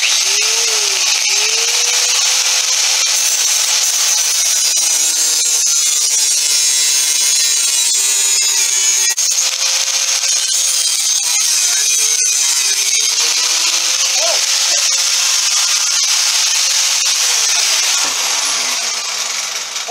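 An angle grinder shaping wood for a small axe head, a steady loud whine that rises and dips as the disc bites into the wood, running continuously for the whole stretch with no talk.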